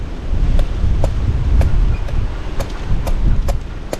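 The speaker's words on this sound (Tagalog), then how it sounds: "Grabe lakas ng hangin." Strong wind roars steadily against the microphone, a loud broadband rush with gusty buffeting and a few brief sharp clicks.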